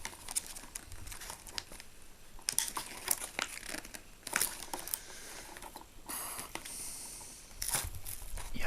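Plastic packaging crinkles and tears near the mic as a Masters of the Universe comic, glued in at the corners, is pried out of its box; steady crackling with a few sharper rips, no talking.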